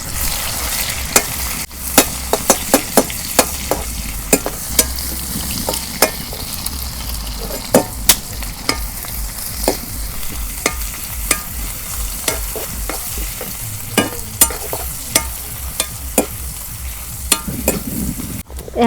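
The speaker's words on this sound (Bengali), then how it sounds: "তেল গরম হয়েছে, এখন আমি পেঁয়াজ কুচি দিয়ে দিই।" Chopped onions fry in hot mustard oil for a spicy chicken curry, a steady dense sizzle that runs throughout, punctuated by frequent sharp spatula scrapes and clacks against the pan, close and loud with no talking.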